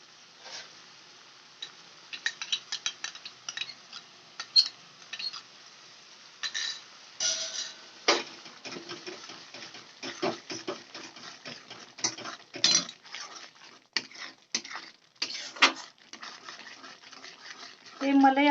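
Cream being stirred into paneer masala in a pan, heard as scattered light scrapes and clinks of a spoon against the pan, quiet and irregular, with soft voice in the background.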